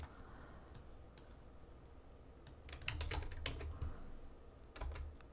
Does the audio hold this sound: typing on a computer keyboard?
yes